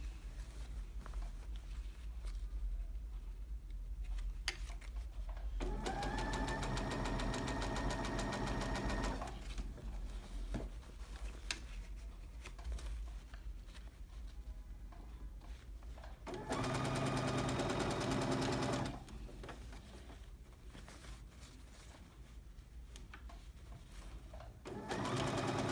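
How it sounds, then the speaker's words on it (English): A sewing machine stitches a petersham waistband onto the top of a skirt at a half-inch seam allowance, two steady whirring runs of several seconds each separated by quiet pauses, close and moderately loud with no talk. "And then I'm going to stitch this on to the top of the skirt"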